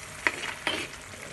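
A spoon stirs chicken roast frying in a pan, two quick scraping strokes over a faint, steady sizzle, close and fairly quiet.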